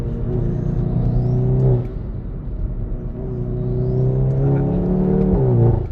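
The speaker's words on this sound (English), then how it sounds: "Oh, that intake noise." A Stage 2+ tuned Hyundai i30N making 333 hp accelerates hard, its intake roaring and rising in pitch through two long pulls with a brief dip between them, loud and close.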